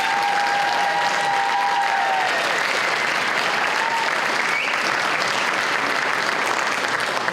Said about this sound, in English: So how about one more big round of applause for the students?